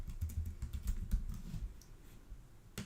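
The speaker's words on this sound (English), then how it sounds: "And now I'm pressing Ctrl D or Command D depending on what keyboard you have." Clicking of computer keyboard keys as a Ctrl D or Command D shortcut is pressed while coding JavaScript, a run of close, fairly quiet taps with one sharper click near the end and no talking.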